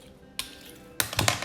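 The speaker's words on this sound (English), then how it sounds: "Just gonna snip some off to make it" Scissors or snips cutting a fragile rose stem during wiring of drooping roses, one sharp snip followed by a quick cluster of crisp clicks, close up.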